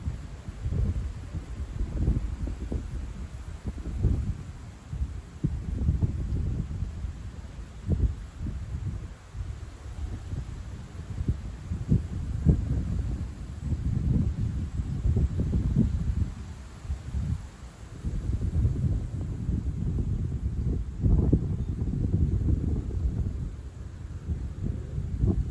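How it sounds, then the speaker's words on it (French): A west wind blows across an open outdoor setting, rumbling and buffeting in uneven gusts, steady throughout with no voices. "le vent qui souffle"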